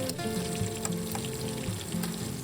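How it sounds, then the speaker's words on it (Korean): Green onion and crushed garlic fry in oil, making a steady, close sizzle with a faint bubbling trickle that runs evenly with no voices. "노릇노릇할 때까지는 기름에 튀겨주겠습니다"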